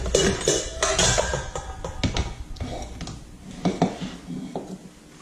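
A mixing bowl being handled in a kitchen, with several clattering knocks and clinks of dishes and utensils, loud and close, spaced irregularly and no talk.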